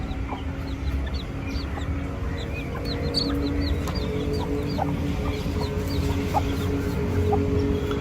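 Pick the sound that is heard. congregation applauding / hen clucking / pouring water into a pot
hen clucking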